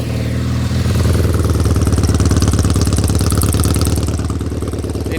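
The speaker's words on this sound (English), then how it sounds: "Motor sounds tight." A 1970 Norton Commando 750 motorcycle idles right after a kick start, its twin engine thumping in a steady, loud, slightly uneven rhythm close by for the whole stretch, with no voices over it.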